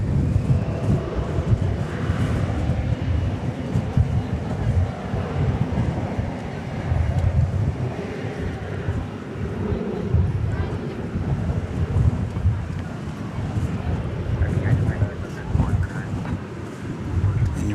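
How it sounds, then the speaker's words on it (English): Strong wind buffets a microphone outdoors at DFW Airport at night, a loud, continuous low rumble with surging gusts throughout. "As the wind just now is bombarding us."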